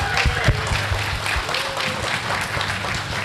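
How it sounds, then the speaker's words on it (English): Audience applause at a ThunderCats panel at a retro convention, a full room clapping loudly with some scattered louder claps and faint crowd noise mixed in. "Give a big round of applause"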